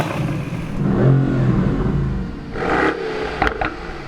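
A Mercedes-AMG sports car, one of a 2020 AMG GT-R and GT63S pairing, revs loudly up and down in two swelling engine surges with a throaty mid-range roar and a couple of sharp pops near the end.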